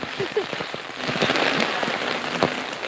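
Rain from a typhoon patters and splashes close by in a steady wash, with a few sharp drip-like knocks and brief faint human sounds.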